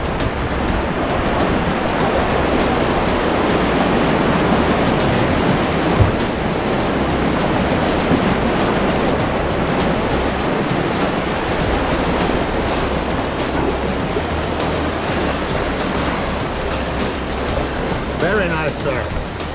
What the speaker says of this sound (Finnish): Nyt tulee vähän aallokkoa sit.